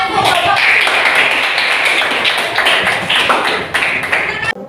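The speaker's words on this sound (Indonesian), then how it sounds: "Oke, tepuk tangan." A small group in a teacher-training class session claps, a close, loud patter of hand claps with uneven, distinct strikes that trails off, and a voice is heard speaking alongside.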